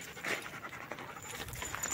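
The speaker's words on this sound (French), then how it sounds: "Allez les chiens, on y va." Australian shepherd dogs panting on a hot-weather walk, a steady stream of quick, breathy huffs close by, continuous and fairly even in level, with no talk over it.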